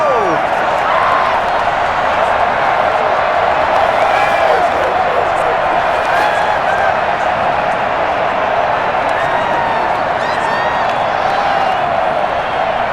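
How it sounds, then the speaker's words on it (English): The stadium crowd in the Madden NFL 21 football game, Green Bay Packers versus Chicago Bears, roars steadily and loudly throughout with scattered whoops and cheers, while a play-by-play commentator talks over the noise. "the crowd getting into it as we come up on a big 3rd down"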